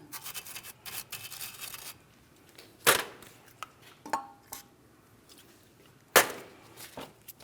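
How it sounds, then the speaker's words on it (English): A wire brush scrubs the threads of a sway bar link stud on a 2016-2025 Chevrolet Malibu, a series of short scratchy strokes near the start, then sparse clinks and two sharp metallic knocks. "For this, I'm just going to use a wire brush. We'll try to clean up the threads"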